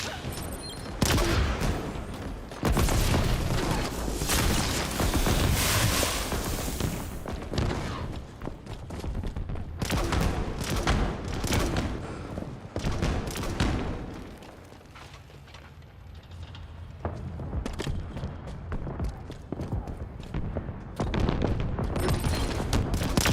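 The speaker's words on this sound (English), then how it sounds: "In a hail of gunfire." Dense, continuous gunfire in a Star Wars battle scene, loud and sustained rapid bursts with booming blasts and a brief lull partway through, with no talking.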